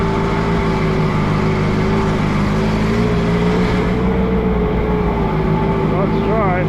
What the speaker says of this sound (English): I never drove a G tractor in the snow before.